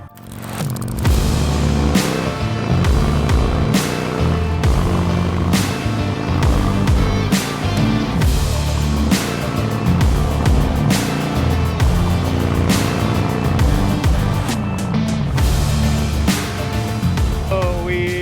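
Harley-Davidson motorcycles riding in at the company's original headquarters during Homecoming, a loud sustained engine rumble with rising and falling revs and sharp rattling accents, continuous throughout.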